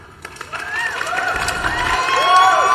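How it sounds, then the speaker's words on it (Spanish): Applause and cheering sound effect played during a flight simulator session: a crowd roars with shouts and whistles, rising steadily louder to a sustained peak. "Gracias, Mark Marin, por esos aplausos."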